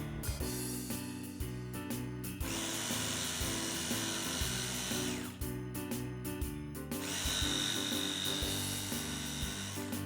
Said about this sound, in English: With a jigsaw, notch out some small V's in the front.